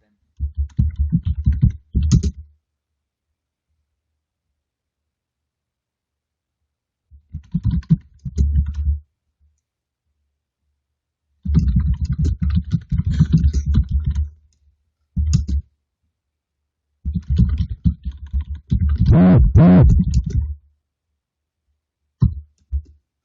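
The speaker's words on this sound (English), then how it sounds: "If I go silent, it's because I'm typing." Someone typing on a computer keyboard in several separate bursts of rapid, close clicking, with long silent pauses between them.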